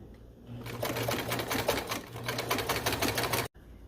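Sewing machine running steadily as it stitches a jacket sleeve being lengthened, a close, continuous rapid needle clatter lasting about three seconds, then cutting off abruptly.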